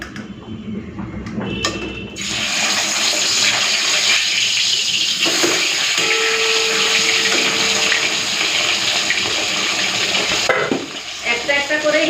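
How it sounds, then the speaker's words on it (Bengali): Fish are lowered into hot oil in a home kitchen and set off a loud, continuous sizzle. The sizzle jumps in after a short quieter start and holds steady and close for about ten seconds before easing off. "এখন এই মাছগুলোকে ভেজে নেব"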